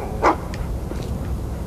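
A dog in a first-person action-adventure game gives one sharp, loud bark followed by a couple of fainter yips, against a low ambient background.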